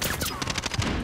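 Bursts of gunfire in the Warzone video game on Rebirth Island ring out in a rapid volley, a close string of sharp cracks lasting about a second.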